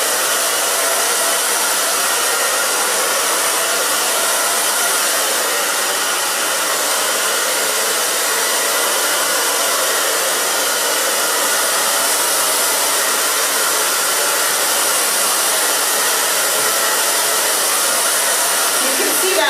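A hair dryer blows loud and steady at close range, drying a short pixie cut straight up, its constant airy roar unbroken for the whole stretch with no talking.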